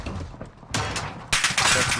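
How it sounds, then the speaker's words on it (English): Shotgun blasts and gunfire in Call of Duty: Modern Warfare, two loud sudden bursts after a quieter start, dense and booming, with a voice briefly in the background. "It's a shotgun"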